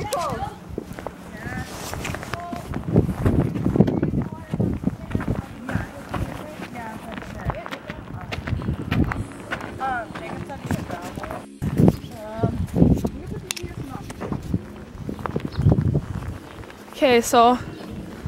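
Horses walking on a trail ride, hooves clip-clopping in an uneven rhythm close by, with people talking over much of it.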